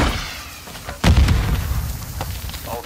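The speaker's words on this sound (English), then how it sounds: "Grenade! Take cover!" A grenade goes off in a video game: a sudden, loud close-range blast with a deep booming body that rolls on and slowly fades, followed by a faint sharp pop, and no talking over it.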